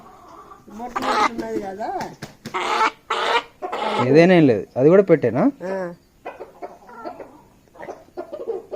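Hens clucking and cackling up close at a poultry market, a mother hen among them, in loud repeated bursts; people talk in between and over the calls.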